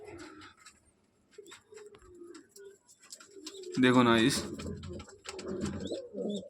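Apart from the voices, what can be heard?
female pigeon cooing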